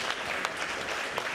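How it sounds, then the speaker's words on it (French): Brief steady audience applause at a talent show, an even wash of many hands clapping at moderate distance with no talking over it. "on peut l'applaudir"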